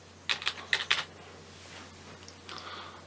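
Keys clack on a ThinkPad laptop keyboard as a password is typed: a quick burst of about five close, crisp taps, a pause, then a couple of lighter taps near the end.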